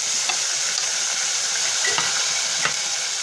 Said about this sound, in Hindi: अब लहसुन और जीरे को मैंने फ्राई कर लिया। अब इसमें टमाटर शामिल करूंगी।